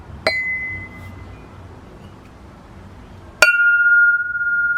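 Two sharp metallic strikes ring out from a Prime 44 metal bell, each a bright ping with a sustained, clear tone that decays slowly, the second louder and longer-ringing, heard close with no talking.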